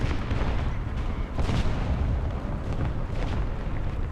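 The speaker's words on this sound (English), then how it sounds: "Artillery fire coming again." Continuous heavy rumbling booms of artillery fire in War Thunder, a dense roar of distant explosions with a stronger burst midway, loud and sustained with no talk.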